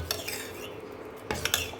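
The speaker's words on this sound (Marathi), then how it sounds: "हे असंच घोटून घेणार आहे" Soaked semolina batter for papad stirred and beaten by hand in a pot, producing soft, close scraping and stirring with a few sharper clinks of a utensil against metal, faint overall.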